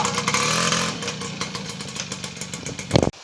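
A motorcycle engine runs nearby with a steady rough putter and a low rumble, easing slightly before it cuts off with a sharp knock at the end.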